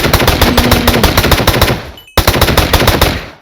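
A gun fires in Minecraft in loud, rapid automatic bursts, a steady stream of close shots with a brief pause before the firing resumes.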